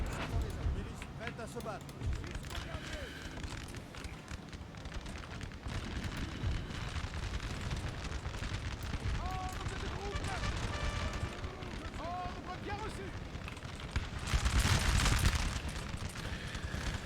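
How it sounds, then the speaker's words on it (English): Musket fire crackles along the battle lines in a Napoleonic war game, a dense, continuous rattle of distant shots with a louder burst near the end, under steady talking. "Firing all along our lines at the enemy here."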